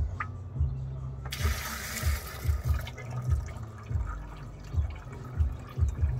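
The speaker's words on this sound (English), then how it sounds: "I'm gonna pour the rest of this in here" Coolant glugs and gurgles as it is poured into a Peterbilt 579 truck's tank, rhythmic bubbling pulses with a brief rushing splash early on, close by.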